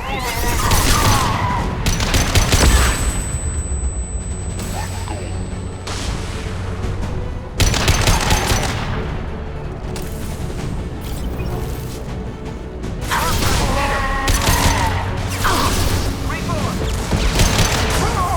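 Mass Effect 2 combat erupts in repeated bursts of gunfire and heavy booming impacts, loud and close in several waves separated by brief lulls, with voices speaking over the fighting.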